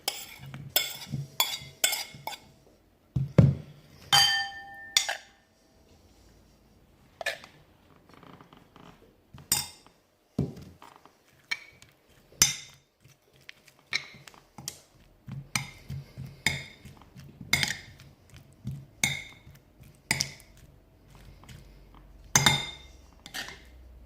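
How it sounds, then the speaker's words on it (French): Apples being stirred into caramel in a pan for a galette des rois, with irregular sharp scraping clinks of a utensil against the pan, close and intermittent, separated by quiet pauses. "je vais mélanger mes pommes avec le caramel"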